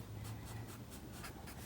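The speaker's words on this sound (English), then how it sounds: "the last one we're going to do is just a regular Sharpie fine point" A regular Sharpie fine point pen writing on matte paper for hand lettering, giving a soft, steady scratchy rasp in repeated strokes, quiet and close with no talk.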